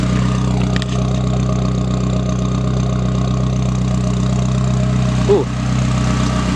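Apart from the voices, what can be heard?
Chevy Cruze turbo engine with Injen cold air intake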